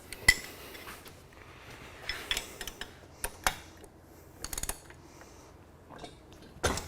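A 7/8 wrench working on the 350 engine of a 1970 Camaro SS RS, giving scattered sharp metallic clinks and ratchet clicks at irregular intervals over a quiet background.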